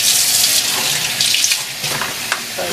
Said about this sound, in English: So you want to wash this down in cold water.